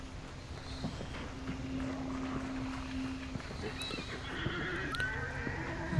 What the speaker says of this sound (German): Oh, ein Pferdchen.